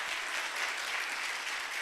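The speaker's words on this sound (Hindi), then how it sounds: "आए उसको इस जगह पर जोरदार तालियां बजाते हुए वेलकम करेंगे।" An audience at an evangelist's Christian gathering claps warmly to welcome a speaker: a dense, steady wash of many hands, close and even for a couple of seconds with no talk over it.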